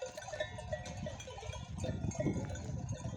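Sheep bleat intermittently in a busy outdoor scene, with a faint bell clinking and low rustling throughout.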